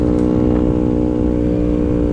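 A motorcycle being ridden, heard as a loud, steady engine drone close up, with a constant low rumble and no break or talk.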